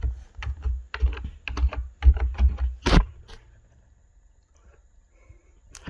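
Fast keystrokes on a computer keyboard as a web address is typed in, a run of close, crisp clicks ending in one sharper key hit, then near silence.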